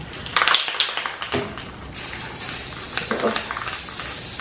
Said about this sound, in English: I'm gonna need to spray them on one side and then the other